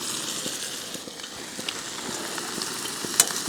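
Ribeye steak sizzling in a hot camp oven on a camp stove, a steady broadband hiss with scattered pops and crackles throughout, fairly close and continuous with one sharper spit near the end.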